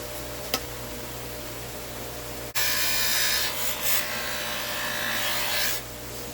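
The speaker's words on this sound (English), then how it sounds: "And then hit it with the polishing wheel." A bench polishing wheel loaded with compound buffs metal trim from a Comet restoration, a sudden loud continuous rubbing whir starting partway through and holding steady, with no voices.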